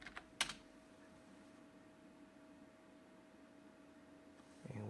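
A quick burst of computer keyboard keystrokes as a password is entered, then near silence with a low hum, and a soft rise of noise at the very end.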